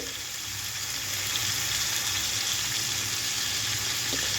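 Chicken, onion and tomato frying together in a pan, giving a steady, continuous sizzle at close range that holds evenly throughout with no talking.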